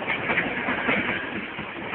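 A train passes close by at the Dunmurry foot crossing, its engine running like a freight locomotive, with a steady rumbling roar and rhythmic clickety-clack of wheels over rail joints.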